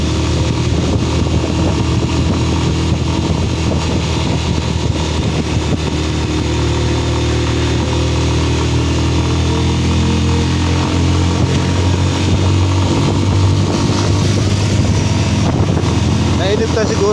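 Motorcycle engine straining at steady high revs on a ride up Marilaque, loud and continuous throughout with a droning low rumble and wind noise.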